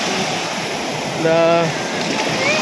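Big sea waves break on the shore in a continuous, loud rushing roar, with a brief voice rising above the surf partway through.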